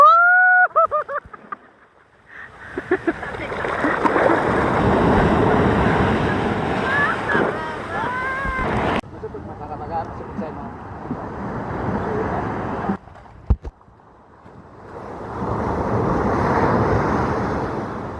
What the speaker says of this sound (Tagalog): lakas kasi ng hampas ng alon dito